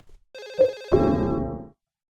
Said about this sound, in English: you will constantly hear a ringing noise